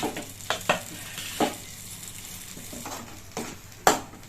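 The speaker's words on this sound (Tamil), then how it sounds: "இது தாளிக்கும் போது கூட நல்லா கை விடாமல் இப்படி துழைக்கிட்டே இருக்கணும்" Small pieces of young fig stirred in a pan while tempering for a chutney, a soft continuous sizzle broken by sharp scraping clacks of the spoon at irregular intervals, close and alone.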